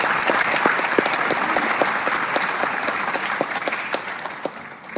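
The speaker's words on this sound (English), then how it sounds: "Let's give them a round of applause" Steady applause from an audience at a scholarship ceremony in Annandale, Virginia, with dense clapping that holds level and starts to thin toward the end.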